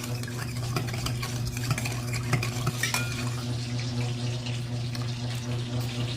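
A spoon stirs a sugar and vinegar mixture in a bowl, a busy close scraping and clinking that runs steadily throughout over a constant low hum, with no voices.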